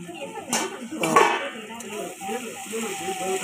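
A lid comes off a pan of pumpkin cooking on low heat, giving a couple of short metallic clanks over a soft, steady sizzle while someone talks nearby.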